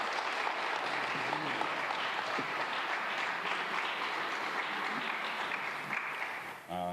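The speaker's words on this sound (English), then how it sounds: "give him a big round of applause" Steady, dense applause from the gathered crowd at a family press conference, continuing evenly at moderate loudness throughout, with a voice briefly starting right at the end.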